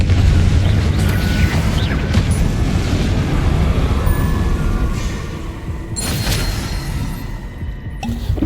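Confringo blasting-spell explosions in the Hogwarts Legacy video game, a heavy continuous low rumbling boom with debris crashes and a sharp burst near the later part.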